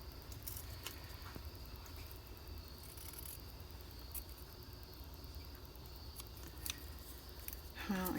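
Scissors snip through paper while a glue book cover is trimmed, the faint, scattered cuts sitting low under a constant hiss of background noise.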